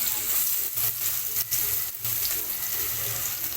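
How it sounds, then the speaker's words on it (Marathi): Sliced onion drops into hot oil already holding whole garam masala for Agri Koli style mutton, setting off a loud, steady broadband sizzle with brief dips partway through. "आता टाकते कांदा."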